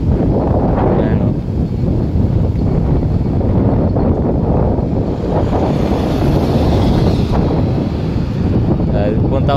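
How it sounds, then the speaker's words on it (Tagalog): Strong wind roars and buffets the microphone continuously on Kefalonia, Greece, a dense, loud rumble filling the whole stretch with gusty fluctuations. "Grabe. Lakas ng hangin."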